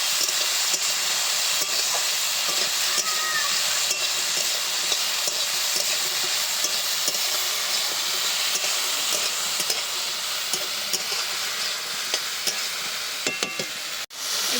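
Spices with turmeric frying in a pan for cauliflower mash, a steady dense sizzle with occasional stirring clicks, continuous and close throughout.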